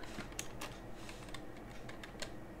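Quiet, steady typing on a computer keyboard, a series of light key clicks at an uneven pace with no talking.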